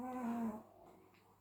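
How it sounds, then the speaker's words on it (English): A dog snores close by, one drawn-out, low, tonal groaning breath lasting about half a second before fading into quiet room noise. "Sorry about the dog snoring."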